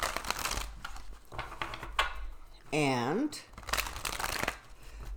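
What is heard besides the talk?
shuffling cards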